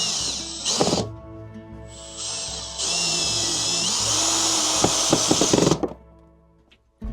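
A power drill drives screws into a shelf during a home DIY job, whirring in sustained bursts of varying length, close and loud, with short pauses and a few clicks between runs.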